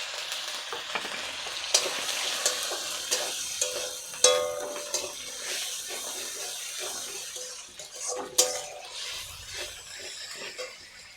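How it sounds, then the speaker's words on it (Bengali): Goat fat sizzles and crackles in a pan for a Bengali chana dal dish while being stirred, with bright spattering pops and occasional scraping clinks close to the mic, no talking. "এবারে আমি এই খাসির চর্বিগুলো দিয়ে দিচ্ছি, দিয়ে ভালো করে কষিয়ে নেব"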